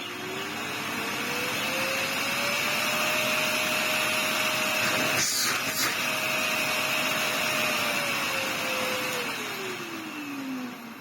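Henry vacuum cleaner with a 2,200 watt motor and variable speed control, modified with RGB lighting, running loud and close with a steady whine that rises in pitch, holds, then winds down near the end.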